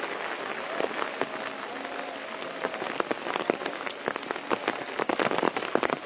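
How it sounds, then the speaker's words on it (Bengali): Heavy rain drums on an umbrella overhead, a dense, close patter of drops that grows louder and more intense toward the end. "আমি একটি ছাতার নিচে আছি এবং ছাতার মধ্যে বৃষ্টি পড়ছে"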